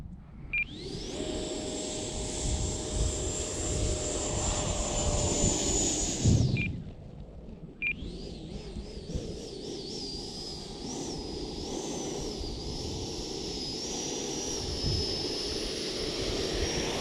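A remote control EDF jet howls with a high, steady turbine whine that drops briefly as the throttle cuts, then spools back up and holds at a loud, slightly wavering pitch.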